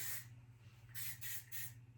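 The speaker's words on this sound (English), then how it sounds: "I'm going to spray it all within the hair" Hairspray from a shaken can sprayed into hair during styling with a ceramic triple-barrel waver, three close, loud hissing bursts in quick succession over a low steady hum.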